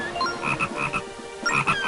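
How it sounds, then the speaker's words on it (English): A golden frog in Zelda: Phantom Hourglass croaks in quick repeated bursts, two clusters of chirpy, ribbit-like calls close and loud with a brief pause between them. "here is the last golden frog"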